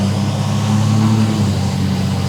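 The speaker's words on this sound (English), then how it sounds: "I can hear the exhaust, but it's not like rattling the cab anymore" A 5.9 Cummins diesel truck with a 4-inch Diamond Eye exhaust, heard from inside the cab as a steady low droning hum while driving, without rattle.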